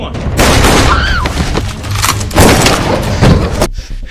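Dense gunfire and heavy booms from a film shootout between police and a mafia gang hit loud and continuously, with thuds and impacts and a narrator's voice talking over the action.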